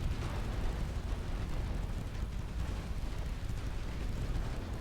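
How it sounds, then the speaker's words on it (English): A dense, sustained rumbling boom from a torpedo detonating in a naval battle in Ultimate Admiral Dreadnoughts, set in a British 1900 campaign; loud, continuous low roar with no gaps. "Torpedo detonation, how sad."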